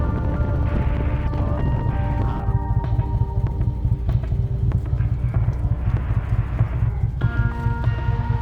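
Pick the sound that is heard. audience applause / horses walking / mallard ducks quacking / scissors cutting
horses walking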